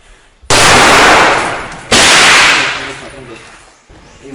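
Two loud, close rifle shots in a firing drill, each a sharp blast followed by a long decaying echo, the second about a second and a half after the first.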